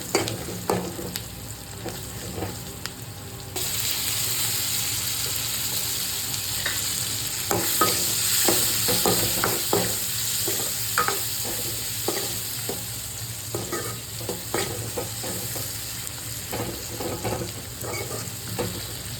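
Drumstick dal with salt and turmeric being stirred in a pan, a steady close sizzle with repeated scraping strokes of the spoon throughout, no talking.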